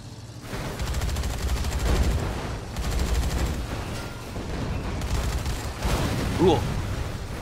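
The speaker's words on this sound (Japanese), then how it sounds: "爆発が始まる。" Rumbling explosions and bursts of gunfire from the video game Dead Rising 3, dense and continuous with booming low end, a short synthetic tone near the end.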